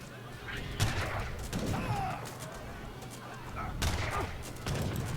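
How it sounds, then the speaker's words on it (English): Grenadiers fire their weapons in a strategy game battle, a clattering fusillade of repeated gunshots with sharp louder bursts near the start and end, over a busy mix of battle noise. "Grenadiers firing away here."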